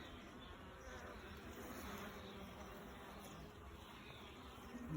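Honey bees swarm thickly over a queen cage on a hive frame, a dense, steady buzzing hum that stays close and loud throughout with no voices.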